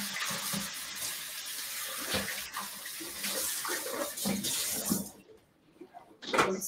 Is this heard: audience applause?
no